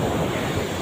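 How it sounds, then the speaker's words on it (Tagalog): Strong surf pounds a beach at Dinadiawan in Dipaculao, Aurora, heard as a constant, loud, broad wash of waves mixed with wind rumble on the microphone, with no voices. "Malakas ang alon."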